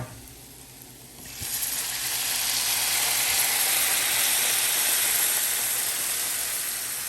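White cooking wine hitting a hot pan of garlic shrimp sauce, bursting into a loud, steady sizzle and steamy hiss that holds on, close and alone without talk.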